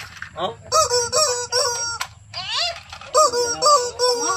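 A chicken gives loud, repeated squawking calls close to the microphone, each one a short nasal cry with brief pauses between them.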